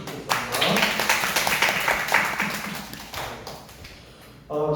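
A church youth congregation applauds to encourage one another at a Korean worship service, a dense round of clapping that swells quickly, holds and gradually thins out before a voice returns at the end.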